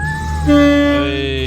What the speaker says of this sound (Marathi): आमची ट्रेन आली आहे दीड तास लेट